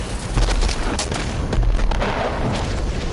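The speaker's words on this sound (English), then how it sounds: "I love the explosion." Loud, rumbling booms and blasts roll through in quick succession, dense and noisy, a barrage of explosions and heavy fire in the video game Rage 2.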